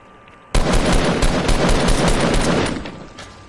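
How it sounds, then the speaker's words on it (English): In a first-person shooter video game, a sudden loud burst of rapid automatic gunfire and blasts starts abruptly, holds for about two seconds of dense, close fire, then fades off. No one talks over it. "Crazy explosions."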